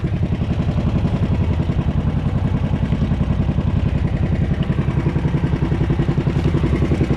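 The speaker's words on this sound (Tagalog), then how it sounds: "palag na palag na yung makina oh." A boat's engine labours in a river current, running loud and steady with rapid rhythmic clattering and knocking throughout, no voices.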